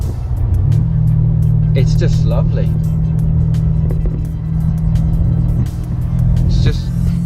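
A BMW M5 on a road test drive gives a steady, loud engine drone with road rumble heard from inside the cabin, while someone talks over it.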